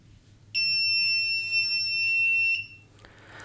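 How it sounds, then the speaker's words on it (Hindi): A piezo buzzer driven by an Arduino IR sensor sounds one steady, shrill electronic tone lasting about two seconds, loud and close, over a faint low hum. "तो मैं इससे बज़र को कंट्रोल कर रहा हूँ"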